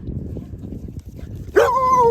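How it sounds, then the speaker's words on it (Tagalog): A dog in a Scottish holiday park gives a single bark or yelp near the end of the moment, loud and close, after a stretch of low rustling ambient noise. "Sabi ng aso, good morning, Jane G Vlogs."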